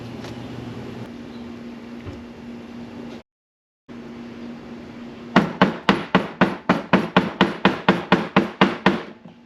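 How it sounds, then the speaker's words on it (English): A new front main seal on a SAAB 9-3 engine is driven in by hammering on the old seal: a steady run of about fifteen evenly spaced, sharp metallic knocks, loud and close, following a quieter stretch of background noise. "Now I'm gonna put the new seal in and use the old seal to hammer it in"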